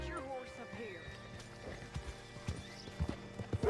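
Horse hooves clip-clop on a hard surface, the steps growing louder toward the end, mixed with game ambience and faint background voices, in the video game Red Dead Redemption 2.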